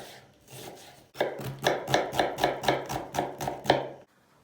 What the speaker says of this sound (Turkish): Bunun için iki tane soğan ihtiyacımız var. İnce ince kıyıyoruz.